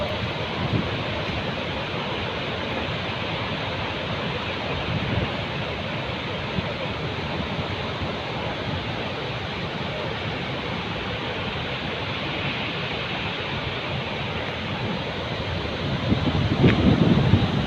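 A constant, powerful rush of water from Gaganachukki waterfall fills the scene, steady throughout, with a slight gusty swell near the end.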